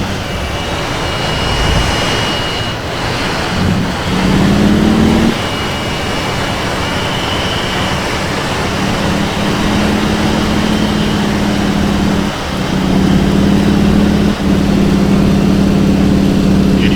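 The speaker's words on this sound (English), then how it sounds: "Engine cutting out there just a little bit, and that is common for a radial to do that." A droning radial aircraft engine roar from a T-6 in a flight simulator game, dipping and stuttering a few times as it cuts out in a stall, sputtering briefly before the steady rumble returns.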